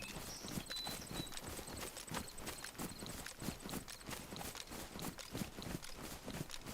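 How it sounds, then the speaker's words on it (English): Quiet, rhythmic footsteps in a DayZ-style survival video game, a steady, regular series of soft thuds at close range that continues throughout with faint background ambience. "I definitely heard footsteps there."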